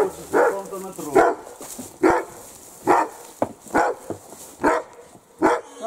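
Several dogs, including a young shepherd, barking in repeated sharp bursts about every half second, fairly close and loud, with a person speaking briefly among the barks.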